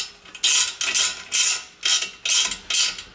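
A ratchet clicks in six quick, bright bursts with short pauses between them while tightening bolts on a bolt-in sprag for a Chrysler 518/618/46/47/48RE transmission, each stroke close and crisp.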